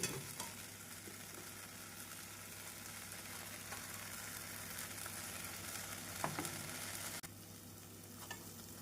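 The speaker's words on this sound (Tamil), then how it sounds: "சால்னா நன்றாக மிக்ஸ் ஆகவும் நாம் கொத்தி வைத்துள்ள பரோட்டாவை போட்டுவிடலாம்" Shredded veg parotta being stirred with salna in a hot pan, a steady sizzle with scraping spatula strokes and occasional sharper clacks against the metal, close and continuous with no talk.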